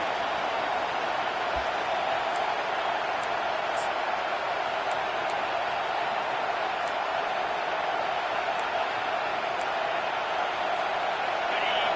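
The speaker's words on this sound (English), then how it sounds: "The roar of the crowd trying to fuel this defense to keep them pinned in their own end." A football stadium crowd roars in a dense, steady wash of noise that fills the whole stretch, far-off and unbroken.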